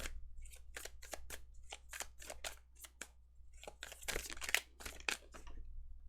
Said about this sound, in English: you got so good at shuffling as I drop all the cards